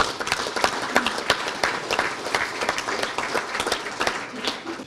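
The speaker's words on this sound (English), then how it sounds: "let's give them a round of applause" Applause at a school board meeting: a modest room of people clapping, with distinct individual claps standing out over a thinner, uneven patter that holds steady throughout.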